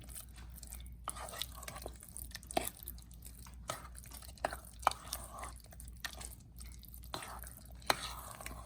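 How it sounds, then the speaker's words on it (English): Jamaican salt fish fritter batter is stirred in a bowl, giving faint, soft, wet squelches and small clicks at an irregular pace over low background hum. "So you keep mixing everything."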